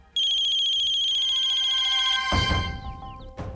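An electronic phone ringtone plays a steady melodic tone for about two seconds, then stops as a burst of rustling noise and handling sounds follows.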